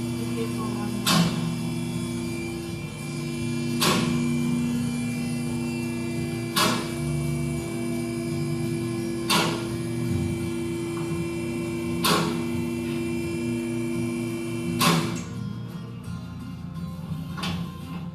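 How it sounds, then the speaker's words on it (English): An automotive lift raises a vehicle with a steady electric motor hum running underneath, while sharp metallic clicks from the safety latches engaging repeat every few seconds before the motor cuts off near the end. "Now raise the vehicle to the desired height and listen for the 2 safety latches."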